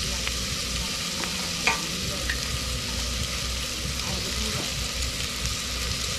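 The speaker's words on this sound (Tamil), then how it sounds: "தக்காளி போட்டு நல்லா வதக்கணும்" Tomatoes with a pinch of salt sizzle as they sauté in a clay pot, a steady soft frying hiss with occasional stirring scrapes, close and moderately quiet.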